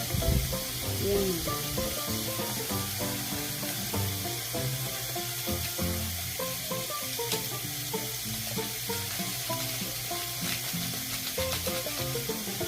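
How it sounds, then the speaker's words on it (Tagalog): Mushroom adobo frying and being stirred in a pan, seasoned with salt, pepper and Magic Sarap, a steady close sizzle with scraping and stirring clatter running throughout. "After ng magic sarap, hinalo-halo ko naman ulit para mag-mix talaga yung ingredients natin."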